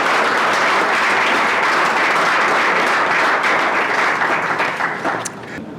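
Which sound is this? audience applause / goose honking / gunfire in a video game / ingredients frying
audience applause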